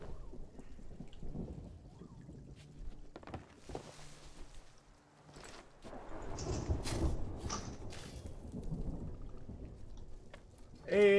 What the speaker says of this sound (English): When is the storm gonna fucking end?